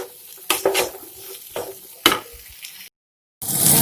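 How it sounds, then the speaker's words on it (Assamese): Chopped papaya peel stir-frying in a pan with turmeric, a spatula scraping in several sharp strokes over a hissing sizzle, then a short gap of silence before the frying resumes loudly. "ভালদৰে মিক্স কৰি দিব, আৰু অলপ সময় ভাজিব এইখিনি।"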